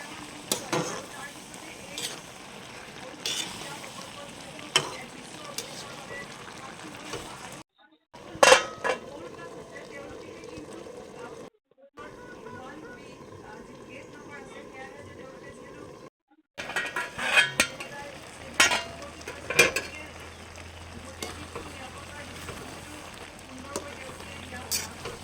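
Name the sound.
stirring bottle gourd and fish boiling in a pot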